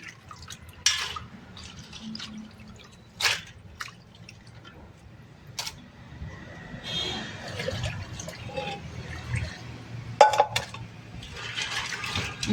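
Water from a pipe splashing and dripping intermittently onto crabs being washed, with bursts of running flow and wet sloshing, fairly close and uneven in loudness.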